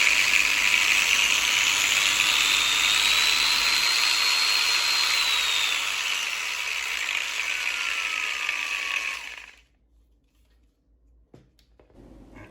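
An Orion HG-954V angle grinder whines at high speed, its pitch sweeping as the RPM is raised, running steadily for about nine seconds before cutting off abruptly into near silence.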